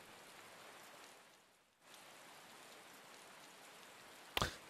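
Soft rain patters in the video game Tales of Berseria, briefly cutting out before resuming as a faint, steady wash, with a short louder burst near the end.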